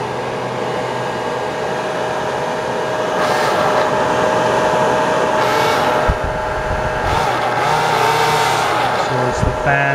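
An RC Echo hovercraft runs indoors with a steady vacuum-cleaner-like whir and whine from its fan, holding constant for the whole stretch with a few soft thumps near the end.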